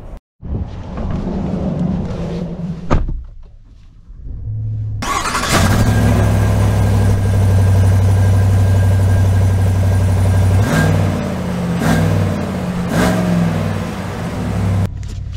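Engine of a 2023 Chevy Silverado 1500 High Country pickup cranks and catches with a loud surge, then settles into a steady, deep, close idle, with brief clicks and shifts near the end.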